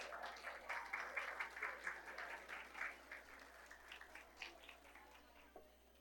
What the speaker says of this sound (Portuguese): Você pode dar uma salva de palmas para a família do seu amigo aí?